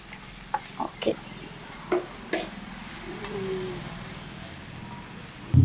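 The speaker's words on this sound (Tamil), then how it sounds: "இப்போ நல்லா வதங்கிக்கிட்டு இருக்கு." Drumstick leaves sautéing in a pan, stirred with a few soft scraping knocks over a low steady sizzle, close and fairly quiet, with no talk.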